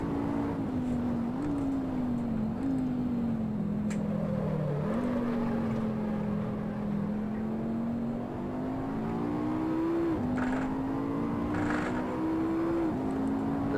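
A racing car engine in the Assetto Corsa driving game drones close and continuous, its pitch climbing and then dropping at each gear change, with no voices.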